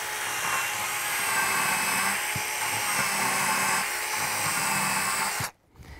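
An electric milling tool with a small toothed blade runs steadily while shaping wood for traditional Kurpie folk instruments, giving a loud, continuous whine that dips briefly and then cuts off abruptly near the end.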